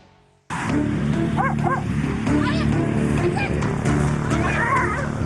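Stray street dogs in Turkey bark in short sharp bursts amid outdoor noise and a steady background rumble, with people talking over them.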